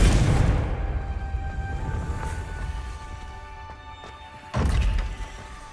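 A Confringo blasting spell exploding in Hogwarts Legacy, a heavy booming impact that fades into a rumbling tail, followed by a second thudding blast near the end.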